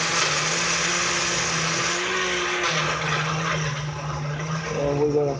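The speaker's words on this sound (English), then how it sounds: "we're gonna see how everything gets mixed up and processed inside the blender" A kitchen blender whirs steadily as it mixes a health drink's ingredients, a loud continuous motor drone with a shifting pitch, running alone without talk.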